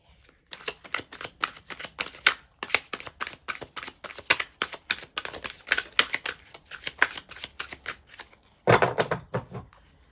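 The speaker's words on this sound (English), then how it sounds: "Just going to shuffle one more time." Tarot cards shuffled by hand in a fast run of crisp riffling bursts, close and loud, ending in a longer dense riffle with no talking.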